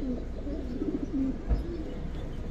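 Giribaz pigeons coo in a loft, low rolling calls repeating over a quiet background, with a single soft thump partway through and no speech.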